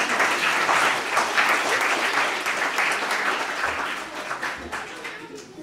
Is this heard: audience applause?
yes